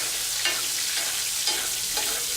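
Scallops searing in a pan while being basted with butter and thyme, a loud continuous sizzle with a few brief spoon-splash swells roughly every half second, no talking.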